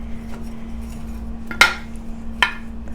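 A spoon stirs peaches and cinnamon in a dish, a quiet scraping bed broken by two sharp clinks of metal against the dish, close by, no talking.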